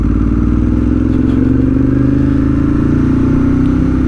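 A superbike's engine and exhaust drone steadily up close, a loud, continuous low growl with a slowly rising pitch, as if under gentle acceleration, with no other sounds.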